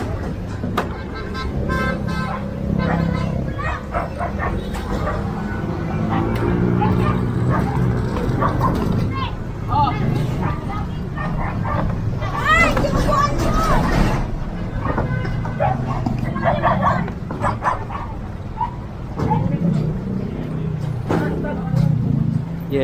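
A dog barks repeatedly with yips and whimpers in a noisy outdoor setting, near and fairly loud, while people talk and call out over it.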